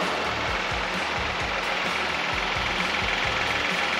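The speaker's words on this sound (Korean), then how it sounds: "엔진 소리 일정하고 좋습니다." A Genesis G90 3.8 AWD engine idles steadily up close, with a low, even rhythmic thrum and a constant hiss of engine-bay noise.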